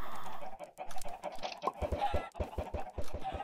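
Chickens cluck in the blocky world of Minecraft, with short repeated bird calls over a run of regular low thumps.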